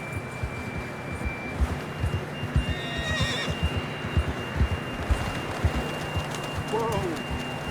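A horse in Red Dead Redemption 2 clops along in a steady hoof rhythm, then gives a clear whinny near the end, with game ambience and faint voices underneath.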